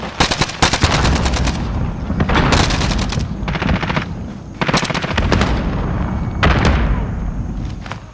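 AN-94 rifle fire in Call of Duty: Modern Warfare multiplayer, repeated loud bursts of rapid shots separated by short pauses, close and dominant throughout.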